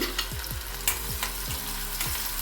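Mustard seeds and a small chopped onion sizzle loudly in hot oil, with a steady fry crackle and repeated stirring scrapes, close up with no talking.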